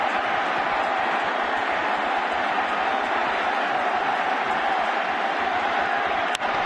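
Packed baseball stadium crowd at World Series Game 1, October 2010, keeping up a loud steady roar of cheering, broad and unbroken, with a brief sharp accent near the end.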